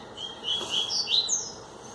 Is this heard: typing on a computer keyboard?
no